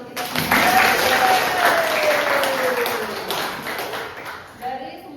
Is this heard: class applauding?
yes